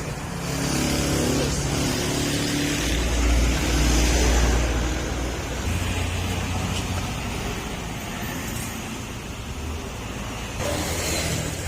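A vehicle engine runs after an oil change, a steady low rumble close by with a brief rise in revs early on, no talking.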